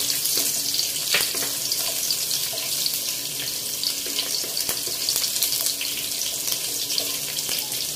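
Onion goes into a hot pan of oil for a crab dish, giving a steady, bright sizzle that fills the whole stretch with a few faint clicks of a utensil, close and continuous.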